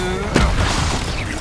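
A Confringo blasting-spell explosion in Hogwarts Legacy: one sudden loud boom that tails off into a dense, rumbling roar, close and filling the short moment.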